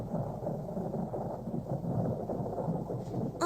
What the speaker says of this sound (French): l'orage va bientôt éclater